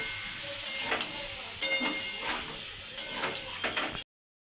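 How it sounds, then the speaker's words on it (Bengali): Tomato and spices sauté in a pan for a potato curry (aloo dum), giving a steady close hiss and sizzle with a few scraping stirs before it cuts off abruptly. "এবার দিয়ে দেবো টমেটো আর দিয়ে দেবো একটুখানি মশলা ধোয়ার জল কিন্তু এবার এটা একটু ভালো করে কষিয়ে দেবো"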